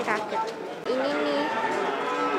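A cow at a cattle market lets out a long, low moo close by, with a bit of background chatter and livestock noise around it.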